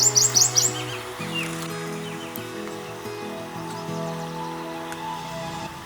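A warbler sings and calls in a run of bright chirps close by at the start, then quieter calls over steady background hum and faint rustling.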